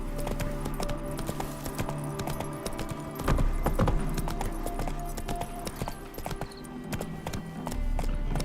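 Steady clip-clop of Roach the horse's hooves in Witcher 3, an even trotting rhythm carried over a droning game soundscape with a faint jingle of tack.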